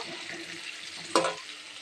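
Cauliflower and potatoes fry in oil, giving a steady low sizzle with a brief sharper clatter partway through, close by and fairly quiet, with no voices.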